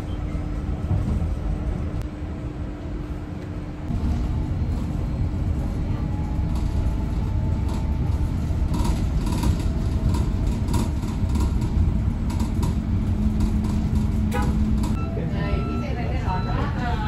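Trans Gadjah Mada campus bus running, with a steady engine and road rumble heard from inside the cabin and recorded onboard announcements playing over it throughout.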